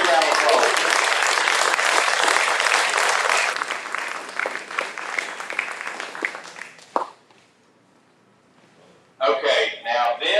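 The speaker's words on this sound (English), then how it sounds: "Big round of applause." Loud, close applause from the audience at a live charity auction for Kaleb House, dense clapping that thins out and stops, followed by a short burst of talk near the end.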